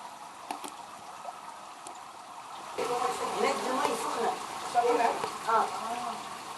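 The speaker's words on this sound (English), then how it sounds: "The hot water falls down through the holes in the rock that were created when gas was emitted." Hot spring water dripping and splashing from holes in a basalt cave ceiling, a soft hiss that swells into a louder patter of falling water partway through, fairly close.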